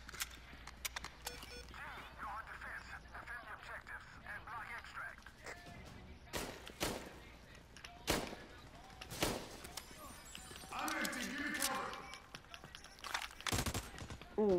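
Gunfire rings out in the America's Army video game as computers are shot, with several sharp, loud bursts spaced through the stretch over steady game noise, and voices come in partway.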